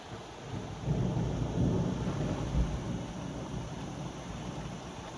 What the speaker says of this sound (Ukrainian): І радію, що гримить грім,